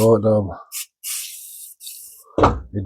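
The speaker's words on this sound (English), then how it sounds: "I gotta spray some WD-40 on here" Several short hissing bursts of aerosol WD-40 lubricant sprayed onto the plate of a rock saw used for slicing jasper and chert, set between talk at the start and end.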